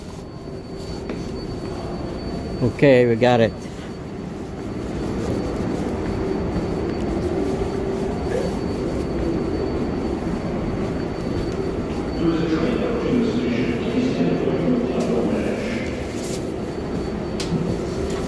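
A subway train sits at a station in Flushing, Queens, with a steady, loud rumble and station noise. A brief squeal or chime sounds early on, and a voice speaks briefly over it.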